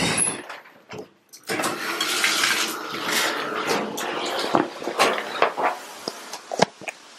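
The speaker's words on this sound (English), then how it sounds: "So I'm gonna get into the shower and" A shower runs with a steady, broad hiss of spraying water, close and continuous, with splashes and knocks breaking the flow near the end.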